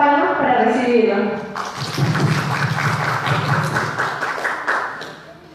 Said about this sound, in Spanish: por favor, fuertes palmas para recibirlo.